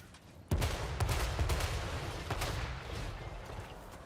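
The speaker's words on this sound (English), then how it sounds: "I'm gonna follow this cannonball when this guy fires." Cannon fire in a fantasy battle strategy game: a sudden loud boom, then a ragged string of further blasts and impacts that slowly fade.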